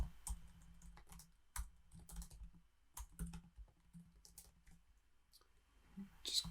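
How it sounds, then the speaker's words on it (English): Typing on a computer keyboard, soft and close, in irregular bursts of key clicks with short pauses between them, while working through code and API calls. "there's a lot of typing here"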